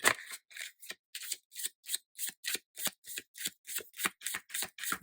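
Tarot cards shuffled in a steady run of crisp riffling bursts, about fifteen quick rhythmic flicks close by, with no voices.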